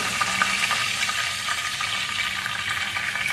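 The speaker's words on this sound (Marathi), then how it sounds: "राई कढीपत्ता दोन मिरच्या आणि काही खडे मसाले" Mustard seeds, curry leaves, two chillies and whole spices sizzle in hot oil for vegetable pulao, a dense continuous crackling hiss with faint pops, close and steady with no talk.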